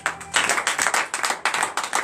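A church congregation at a morning prayer service claps in a quick, irregular rhythm, a bright burst of many hands close by that continues throughout.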